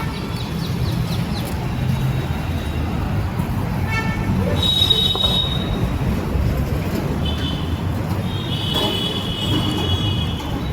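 Metro train at Mundka Industrial Area station, Delhi, with a steady rumble of rolling wagons, brief high wheel squeals and a horn-like toot, amid constant station and traffic noise.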